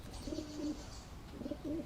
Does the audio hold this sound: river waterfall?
no